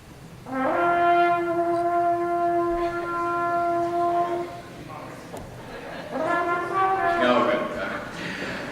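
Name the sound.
trombone imitating a vacuum cleaner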